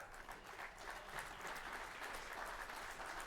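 A crowd at a Nordic rookie timbersports championship applauds a competitor, a dense, steady wash of many hands clapping at a distance, continuous and even throughout.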